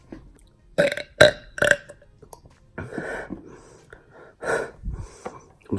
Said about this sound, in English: I usually burp a lot after drinking a bottle of pop.